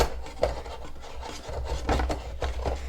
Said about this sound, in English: So we'll go ahead and put in our bulb.